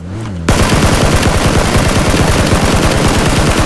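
Rapid automatic gunfire from the video game PUBG (Battlegrounds) bursts in after a brief quiet moment and continues as a loud, dense stream of close shots to the end.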